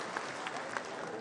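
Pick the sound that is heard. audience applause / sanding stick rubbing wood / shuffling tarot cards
audience applause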